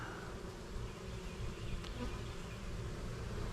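Honeybees hum in a steady, dense drone at an open hive in a Georgia bee yard during the summer dearth, a close and continuous buzz with no voices.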